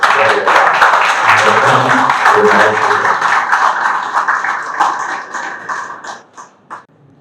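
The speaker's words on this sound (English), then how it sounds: "So I request the audience to give a big round of applause to Mr. Jay." An audience at an alumni session gives a round of applause for a speaker, steady clapping that fades out over several seconds, with some voices in the crowd.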